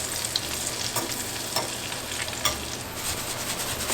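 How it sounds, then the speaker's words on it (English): Sage leaves crisp in brown butter with a dense, even sizzle that crackles continuously, punctuated by small spitting pops, close and fairly loud. "adding the sage to the brown butter, and it will crisp up"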